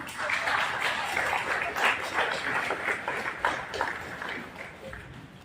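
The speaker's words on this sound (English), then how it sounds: "A round of applause once again, ladies and gentlemen." Audience applause fills a conference hall during an international geoscience conference opening, a sustained steady clapping from a large crowd lasting several seconds before tapering off.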